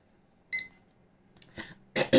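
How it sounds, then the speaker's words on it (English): A timer beeps in a quiet room: one short bright electronic chirp, then a couple of soft clicks and a louder double beep near the end, with no voices. "let's put our timers on and everything"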